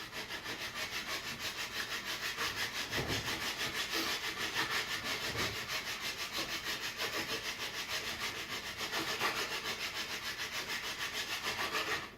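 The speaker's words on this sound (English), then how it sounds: "If I sand anywhere on that shaft, I'm going to change the color" Sandpaper rubbing along a wooden footed arrow shaft in steady rapid back-and-forth strokes, a continuous close scratchy rasp with no talking.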